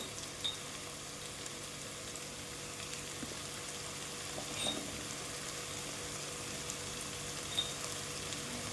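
Masala sizzles softly in a pan while egg biryani is being cooked. The frying is a quiet, steady crackle with an occasional faint clink, and no one speaks.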